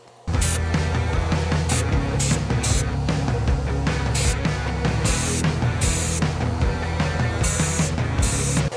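A spray gun being set up for spraying primer on an entry door, with a loud, close mechanical rattle and repeated bursts of broadband hiss that start abruptly and continue throughout without talk.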